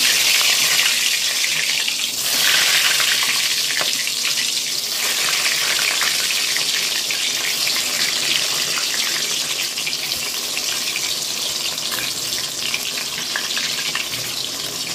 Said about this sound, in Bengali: দেখো বন্ধুরা, কড়ায় তেল গরম হয়ে গেছে, আমি বেগুন ভাজবো।